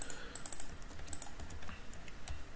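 Quiet, close clicking of code being typed on a computer keyboard, irregular bursts of keystrokes with short pauses, no voice.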